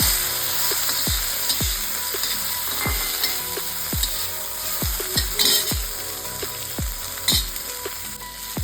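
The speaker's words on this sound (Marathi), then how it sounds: "मी कांद्यातच टोमॅटो टाकते आणि 1 मिनिटापर्यंत मऊ होईपर्यंत परतवून घेऊ" Onion and tomato sautéed together in a pan, a soft continuous sizzle broken by regular scraping strokes of a spatula roughly every half second to second, close and alone.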